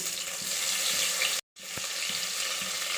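Star anise and fennel seeds fry in hot oil for a pulao, giving a steady, close, fairly loud sizzling hiss that cuts out briefly midway and then resumes with a few soft knocks.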